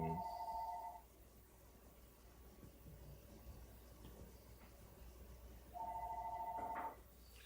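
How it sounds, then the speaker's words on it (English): A telephone rings in two short electronic bursts, one at the start and one near the end, separated by a quiet stretch of low background hum. "The phone ringing."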